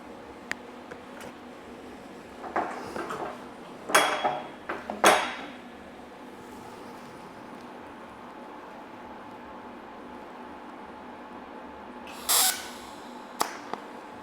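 Tack welding on a car sill, a few short sharp crackling bursts of under a second each, spaced apart over near-quiet workshop background.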